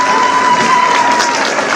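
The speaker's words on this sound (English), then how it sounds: "If you could give them a round of applause" Audience clapping for parents and family at a school event, a steady dense wash of applause with crowd noise throughout, fairly loud and continuous, with a faint steady tone running beneath.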